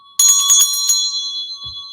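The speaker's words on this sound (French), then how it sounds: "Je fais tinter la petite cloche pour appeler les esprits." A small ritual bell is struck once to call spirits, with a bright metallic ring and a few quick jingles, then a pure sustained tone that fades slowly, close and alone.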